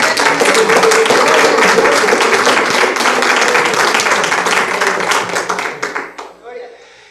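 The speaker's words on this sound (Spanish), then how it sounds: "Le damos un aplauso al Señor por eso." A congregation in a church service bursts into loud, sustained applause, dense clapping from many hands that holds steady and then thins out and fades over the last second or two.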